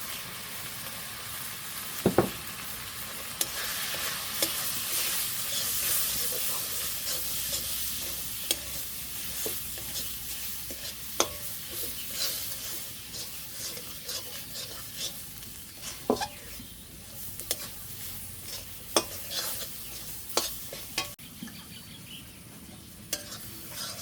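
Spices with turmeric and chili powder fry in a pan in a village kitchen, a continuous sizzle broken by frequent stirring scrapes and clinks of a spatula, close and moderately loud, with no talking.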